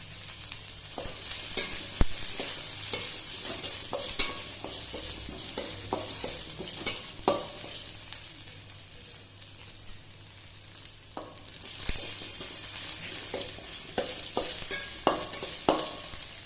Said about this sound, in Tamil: கடலைப்பருப்பு சிவக்க ஆரம்பிச்சிட்டு கொஞ்சம் புகை வர மாதிரி இருந்ததுன்னா அதுக்கு தனிச்சு வச்சுக்கணும்